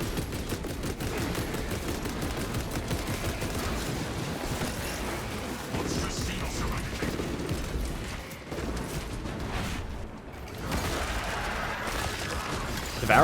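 Constant heavy gunfire and explosions from a Combi Melta Techmarine battle in Space Marine 2, a dense, unbroken barrage that dips briefly before resuming at full intensity.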